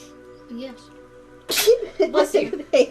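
A single loud, close sneeze bursts out after a quiet stretch, followed by people talking in a casual tabletop game session.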